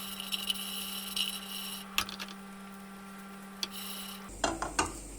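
Spices and bread are stirred in a pan, with light scrapes and utensil clicks over a steady hum, and a few sharper knocks near the end.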